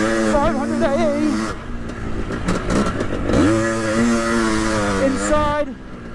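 A Husqvarna AE 500 automatic 500cc two-stroke dirt bike, with a 1985 engine in a 1982 CR500 chassis, runs loud and close, its pitch rising and falling through repeated revs, with a voice faintly audible over it.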